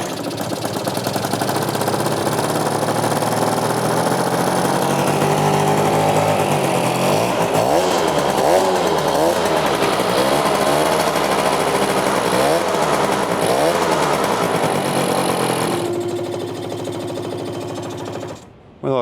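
An old Yamaha parts-bike motorcycle engine runs loudly and steadily for most of the stretch, with a rough, buzzing, revving character and rising and falling throttle blips in the middle before it cuts out near the end.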